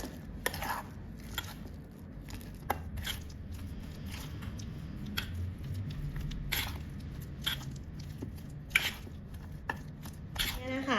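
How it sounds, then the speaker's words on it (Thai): Garlic butter mixture being stirred and pressed in a bowl, with irregular scraping and soft clicking strokes close up over a steady low background hum, no talking. "เสร็จแล้วเราก็คนผสมให้ส่วนผสมทั้งหมดเข้ากันดีนะคะ"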